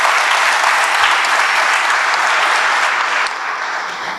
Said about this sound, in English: deserves a warm round of applause